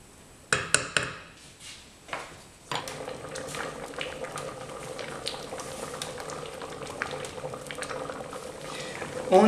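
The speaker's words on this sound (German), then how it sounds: "das lassen wir jetzt vor sich hin köcheln" Bengali masoor dal simmering in a pot, a steady soft bubbling that runs for several seconds after a few sharp kitchen clatters at the start, with no talk over it.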